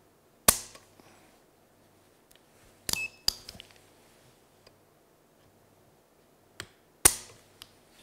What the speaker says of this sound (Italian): Ora procediamo con la misurazione del peso di sgancio dello scatto.